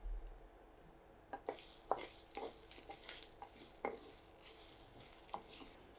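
Whole coriander seeds and chillies fry in hot oil with a soft, steady sizzle, punctuated by sharp spoon scrapes and stirring clinks against the pan.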